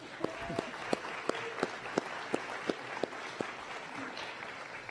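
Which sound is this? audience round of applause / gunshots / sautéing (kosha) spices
audience round of applause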